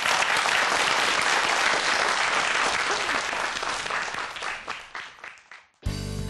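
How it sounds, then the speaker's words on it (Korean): A lecture audience at a science talk on electronic noses applauds the speaker: a dense, loud wash of many hands clapping that holds steady, then thins and fades out near the end, with no talk over it. "큰 박수 부탁드릴게요"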